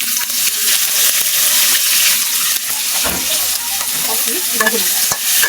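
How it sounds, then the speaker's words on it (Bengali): Dhenki greens are stirred into onion and garlic browned in a pan, giving a steady close sizzle and frying hiss with scraping stir strokes throughout, and no talking. "বাদামি কালার ভাজা হয়ে গেছে আমি এটার মধ্যে শাকগুলা দিয়ে দিন"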